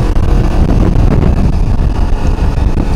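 A 2017 Kawasaki Versys X-300 motorcycle engine runs loud and steady under heavy wind rush while riding, with brief dips in level as gears are quickly shifted.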